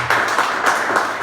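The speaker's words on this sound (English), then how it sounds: "I want us to clap hands for people who have been consistent in following up" A church congregation claps hands together, a loud steady burst of applause with pulsing rhythm throughout the short stretch.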